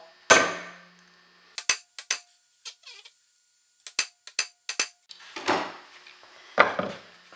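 Repeated hammer blows on a metal punch while setting a sledgehammer head, a loud first strike followed by irregular clusters of sharp, ringing knocks at close range, with no talking.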